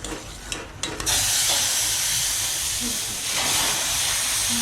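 Hot milk hits roasted semolina sheera in a pan and erupts into a loud, continuous steamy hiss and sizzle after a few clanks, holding strong for several seconds and surging again near the end.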